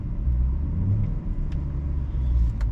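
A 2008 BMW E90 M3 V8 idles with a deep, steady rumble close by, loud and continuous, with no voices.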